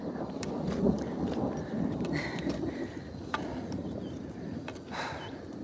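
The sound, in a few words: thunder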